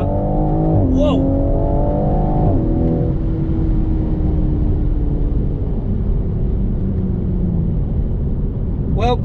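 A tuned Toyota MkV Supra engine accelerates hard with a loud, close, rising drone through gear changes, its pitch climbing and dropping at each shift, heard from inside the car.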